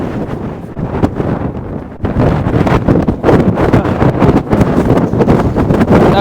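Strong, gusty wind blasting a microphone on an open hilltop, a continuous loud roar that swells and buffets throughout, rising harder after the first couple of seconds.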